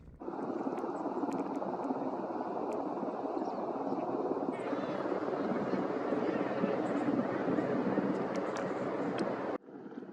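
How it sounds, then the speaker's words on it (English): A Canadian Coast Guard helicopter flying in over Comox Valley on Vancouver Island, its steady rotor drone filling the air, loud and continuous, mixed with wind buffeting the microphone. "we seen this Canadian Coast Guard helicopter flying in"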